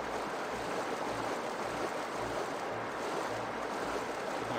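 Flowing water in the Jedi Knight video game, a steady rushing wash like a stream or surf, continuous and even throughout with a low rumble beneath.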